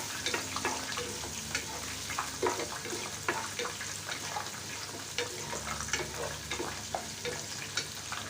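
Chopped onions fry in hot ghee with a dense, continuous crackling sizzle. Regular scrapes and knocks of a stirring spoon punctuate it at close range.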